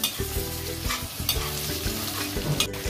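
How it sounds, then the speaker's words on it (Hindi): Boiled liver lands among frying onions on a tawa, drawing a steady sizzle broken by repeated scraping strokes of a spatula stirring, fairly quiet and close, with no voices. "प्याज हमारा थोड़ा सा भून चुका है, इसमें डालेंगे कलेजी।"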